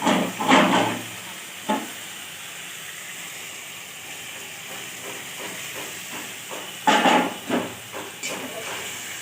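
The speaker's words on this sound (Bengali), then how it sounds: "বাটিটা অল্প করে জল দিয়ে, মশলাটা লেগে রয়েছে তো ওটা ধুয়ে দেবো।" Water is poured into a hot pan, giving sharp bursts of hissing steam at the start and again near the end, with a quieter crackling simmer in between.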